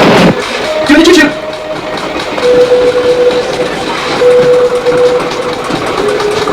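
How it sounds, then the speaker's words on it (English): A train in the horror game Horror Express sounds sustained whistle-like tones over a steady rumbling background, with a voice talking over it. "There's the train."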